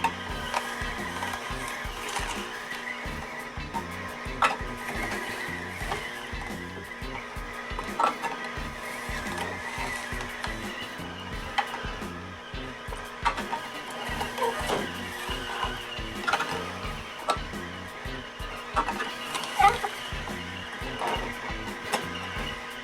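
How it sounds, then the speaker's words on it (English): A quiet juicer grinds and crunches apples in a steady, rhythmic mechanical churn. It stays fairly soft throughout and carries small knocks and creaks, with no talk. "Nice advantage too with this juicer is it's quiet and it's not rattling the whole table."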